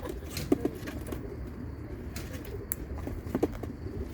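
Young racing pigeons coo softly at a race loft, a few short throaty calls rising above a steady outdoor murmur, with brief wing flaps and scattered clicks nearby.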